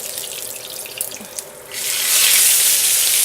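A kitchen tap runs water over hands being washed while a pot roast is prepared, a steady hiss that swells louder and fuller partway through, with faint splashing and no talk.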